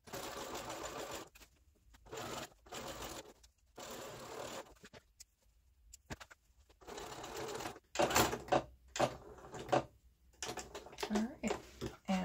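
A sewing machine edge stitches around handwoven plain weave fabric made from knitting yarn, set to stitch length 3, in short, choppy bursts of whirring between pauses, with a person talking over and between them.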